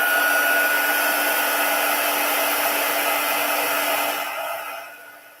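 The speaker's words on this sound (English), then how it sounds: "let's grab the heat tool" A crafting heat tool blows hot air over embossing ink, a steady loud fan-like roar with a faint whine that fades out near the end.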